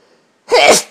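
A single sharp human sneeze bursts out loudly and close by after a near-silent moment, then fades quickly.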